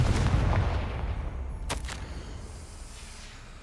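A Confringo fire spell explodes in Hogwarts Legacy, a loud burst of sound that gradually decays, followed by a couple of brief crackles and a sharp hit at the end.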